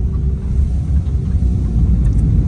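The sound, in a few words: car making a noise while driving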